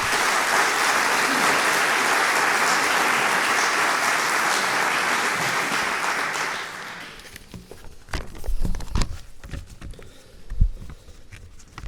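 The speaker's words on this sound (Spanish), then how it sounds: "Un aplauso," A crowd at the opening ceremony of the Human Rights Route in Oviedo applauds loudly and steadily for several seconds, then the clapping fades into scattered claps and quieter movement.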